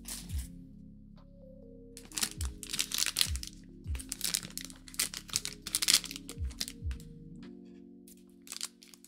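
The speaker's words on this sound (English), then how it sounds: "I'm sorry, you guys get crinkly bags." Crinkly plastic bags being crumpled and handled, a close, irregular run of crackling bursts through most of the stretch, with low tonal background sounds underneath.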